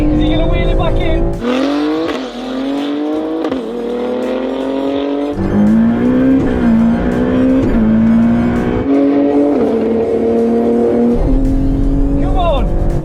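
BMW X3M launching hard and accelerating in a race against supercars, engine note climbing through several gear changes, loud and close, with excited shouting over it.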